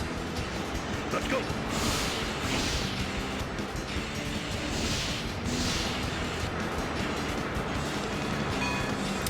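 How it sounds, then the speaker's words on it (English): Train rumbling and rattling in the Sonic Heroes video game, a dense, steady roar with metallic clatter filling the whole stretch, while a voice speaks briefly over it. "Oh no, here comes the train"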